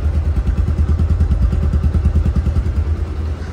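A Bajaj Pulsar DD motorcycle engine runs steadily at idle, its close, loud, even low thumping pulses filling the whole stretch with no talk over it.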